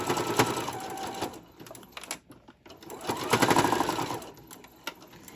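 A sewing machine stitches ruffle trim onto a tote bag in steady whirring runs, stopping briefly midway before starting again, close and fairly quiet.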